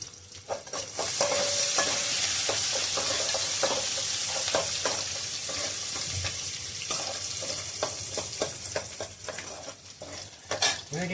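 Sliced onions sauté in a pan in a home kitchen, a steady sizzle with repeated scrapes and clinks of a spoon stirring against the metal, continuous and fairly close with no talking.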